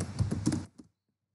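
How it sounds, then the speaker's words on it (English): A quick burst of keyboard key taps, close and clicky, then a final tap before silence. "just we are typing"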